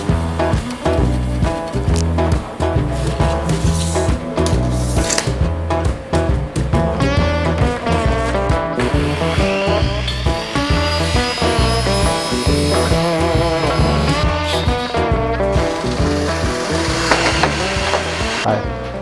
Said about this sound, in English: So I'm going to cut 3 rails at 47 5/8 right now.